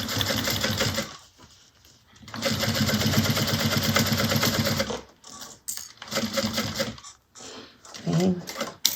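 A sewing machine stitches a bag in loud, rapid mechanical bursts, running steadily for a few seconds, pausing, then starting again in shorter runs.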